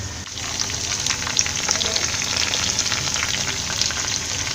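Chicken pieces frying in oil in a pan over a medium flame for a Kerala-style chicken fry, giving a steady, close crackling sizzle with scattered pops and no voices.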